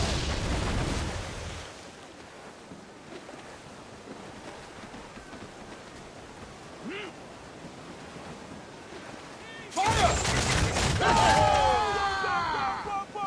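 Ship cannons fire during a naval fight in Assassin's Creed IV: Black Flag, a loud opening volley, then waves and wind at sea, then a second heavy burst of blasts near the end with voices shouting.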